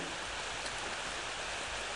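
Steady rain falls in the Ao Oni horror game, a dense, even hiss with a low rumble underneath that holds at the same level throughout, with no voices over it.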